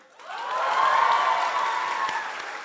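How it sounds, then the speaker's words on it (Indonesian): University students in a crowd give a short burst of clapping that swells quickly, holds for about two seconds, then fades out. "Tadi boleh tepuk tangan yang mahasiswa?"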